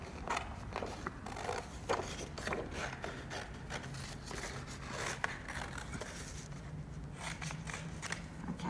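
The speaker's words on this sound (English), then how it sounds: "Then I'm going to cut my star shape out." Scissors cut a star shape out of paper, producing a quiet run of irregular snips and rustles. The paper crinkles softly as it is turned, with no speech.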